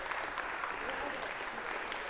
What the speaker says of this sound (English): And the crowd went wild for those of you watching from New Haven today with applause.